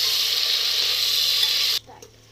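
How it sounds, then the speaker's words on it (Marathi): Chopped tomatoes sizzle and fry with golden brown onion in a pan, a steady close hiss that cuts off abruptly near the end. "त्यामध्ये 4 टोमॅटो चिरलेले आपण ऍड करणार आहोत आणि तेही चांगले फ्राय करून घेणार आहोत"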